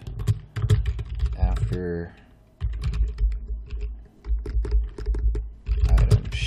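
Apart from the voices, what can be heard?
typing on a computer keyboard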